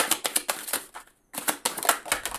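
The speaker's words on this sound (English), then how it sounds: "I'll just give it a quick shuffle." A tarot deck shuffled by hand, quick rapid riffles of card edges in two bursts separated by a brief pause, close and crisp, with no speech over it.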